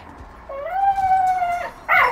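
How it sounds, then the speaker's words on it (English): A dog named Missy lets out a single drawn-out whining cry lasting about a second, close by and fairly loud, followed by a short yelp at the end. "Why is your dog crying?"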